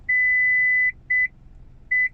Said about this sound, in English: reverse parking sensors.